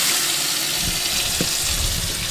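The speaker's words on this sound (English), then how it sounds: "I'm just gonna fill it up." Water runs from a tap to fill a tank, a steady, loud, close rushing hiss that stays even throughout.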